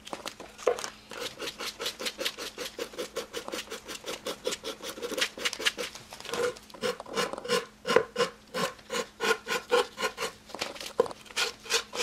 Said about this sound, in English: sanding the edges and the corners of the paper just a little bit, even exposing a little bit of that cradle board